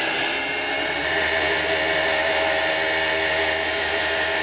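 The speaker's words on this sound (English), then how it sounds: "And this just gives it a nice diamond burr finish." A rotary tool fitted with a diamond burr grinds a finish onto a sterling silver cuff bracelet, giving a loud, steady high-pitched whirring whine up close, with no talk.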